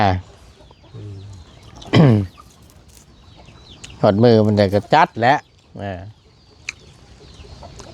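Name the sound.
chickens clucking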